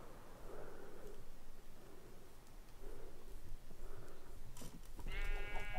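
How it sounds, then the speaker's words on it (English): Sheep bleat in Minecraft near a small hillside village, several wavering calls rising over steady background game sound toward the end. "Oh, lots of sheep."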